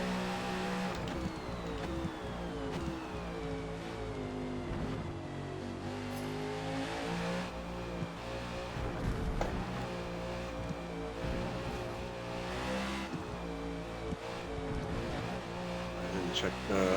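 Race cars in Forza Motorsport on the Indianapolis road course, NASCAR-style stock cars with engines droning and revving through gear changes, loud and continuous, with several cars audible at once and voices faintly underneath.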